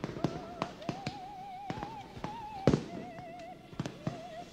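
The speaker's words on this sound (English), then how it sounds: "Well, the fireworks are starting." Fireworks going off at night in a series of sharp pops and thumps, some near and some farther away, with high whistling streaks between the bursts.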